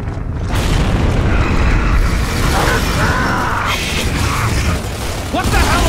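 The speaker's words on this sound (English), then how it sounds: "If you pierce their tanks, they explode." A pierced tank on an enemy explodes in Gears of War 2, a heavy boom that starts the clip and is followed by continuous loud battle noise with clanking, mechanical rattles and scattered bursts.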